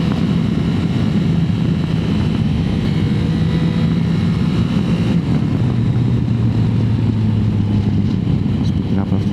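Yamaha Tracer 9 GT (2025) triple-cylinder engine on the road, a steady loud drone under heavy wind rush while riding, with a low rumble holding level throughout.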